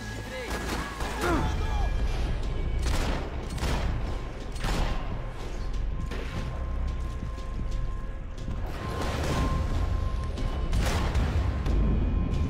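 Gunfire in Max Payne 3 during a company invasion: repeated sharp shots and bursts crack out at irregular intervals over a rumbling, busy game soundscape, with voices talking in between.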